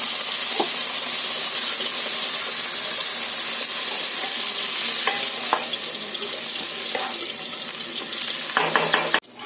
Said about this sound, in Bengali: তাই একটু আলু ভাজা করে রাখছি